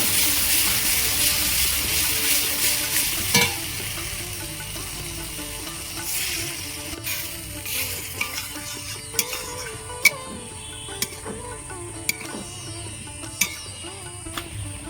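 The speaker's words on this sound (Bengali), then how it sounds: "তেল ফেলে গেছে এবার আমি জল দেবো" Water poured into a pan of hot oil and spices brings an initial sizzle that quietens, followed by scattered sharp clinks and taps of a utensil against the pan, close up.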